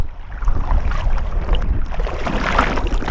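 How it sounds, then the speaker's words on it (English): Strong, blustery wind roars across Lake Superior during a kayak trip, with heavy gusts buffeting the microphone and waves lapping around the boat. It is loud and continuous, and no voices are heard. "Gotta get out of the wind for a bit."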